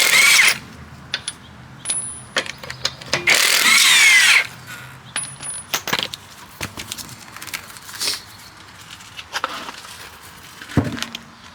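A power tool zips lug bolts off the wheels of a Volvo V70 during tie rod work, with a few loud, close bursts of whirring impact driving, followed by clinks and metallic handling clatter.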